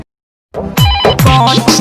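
A telephone rings in short repeated electronic bursts after a half-second of silence, loud and close with bright harmonic tones, no talk during the rings.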